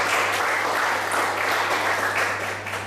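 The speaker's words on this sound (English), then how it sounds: "Let's clap it up for Victoria." A room of people applauds a speaker named Victoria at a professional development session on communication, with dense, steady clapping that holds strong for about three seconds before easing slightly at the end.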